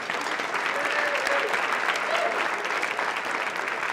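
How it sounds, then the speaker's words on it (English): Audience at a university scholarship reception for over 370 guests claps steadily in a warm, continuous wash of applause, with faint voices mixed in. "let's give ourselves a round of applause for that."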